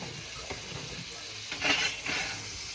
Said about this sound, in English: Get a little butter going in the pan.